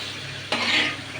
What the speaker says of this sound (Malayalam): ഇതിനൊന്ന് ഇളക്കി നോക്കട്ടെ